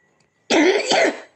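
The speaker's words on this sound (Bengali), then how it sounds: "ওই দেখো কাশি দেখো" A sick child with a fever coughs twice in a quick pair, close and loud, after a moment of silence with no talk.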